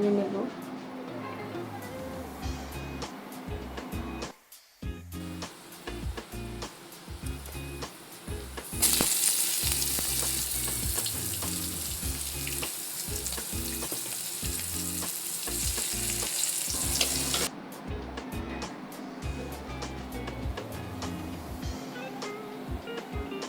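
Chopped garlic and onion hit a hot pan and are stir-fried, with a loud burst of bright sizzling rising midway, continuous spatula scraping throughout, and a voice talking over parts of it.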